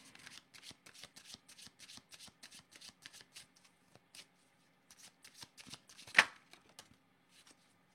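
Tarot cards being shuffled by hand, a quick series of soft riffling bursts in an even rhythm, close and quiet, with one sharper snap near the end.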